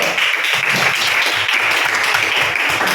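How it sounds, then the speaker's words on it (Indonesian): Audience applause during an Indonesian classroom presentation on academic supervision coaching, a steady dense clapping wash filling the whole stretch at fairly close range with no speech over it. "beri aplaus dulu"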